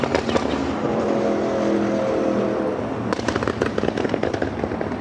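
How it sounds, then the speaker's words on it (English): A motorcycle roars past near the runways at LAX airport. The engine holds a loud, steady rumble, then breaks into crackling, popping bursts as it goes by, with no talking. "That's a motorcycle, just so everyone knows."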